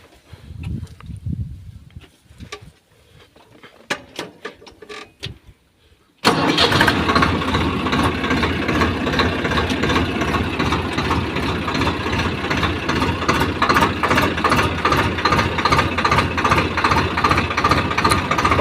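A wheat threshing machine motor on a farm starts abruptly partway through and then runs steadily and loudly, a continuous droning hum with faint knocks before it kicks in.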